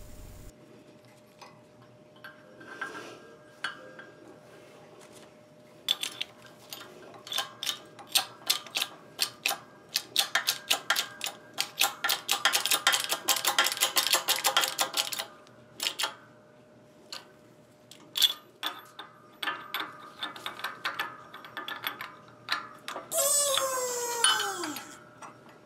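A frozen bushing is pressed into a heated gear for an Atlas horizontal mill, producing irregular bursts of sharp metallic clicks and ticks, a dense stretch in the middle, and a brief rising squeal near the end.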